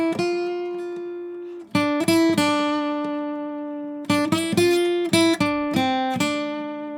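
Lead guitar improvisation plays sparse sustained notes, each ringing out and slowly decaying, separated by deliberate gaps, with a cluster of quick picked notes in the middle and later sections; no talking.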